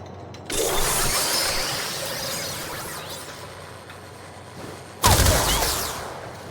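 Weapon fire at training targets in the game Warframe, heard as mechanical clattering bursts, one sustained volley and then a sharp loud burst near the end, with no talk.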